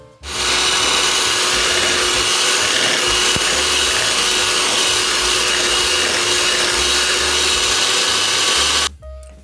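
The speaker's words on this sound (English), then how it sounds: "we're just going to take a hand mixer and blend that until it's well combined" A handheld electric mixer whirs steadily as it blends cream cheese and butter for a cupcake icing, a loud, continuous motor drone running unbroken for about eight seconds before cutting off.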